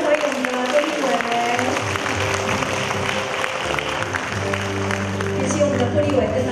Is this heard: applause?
yes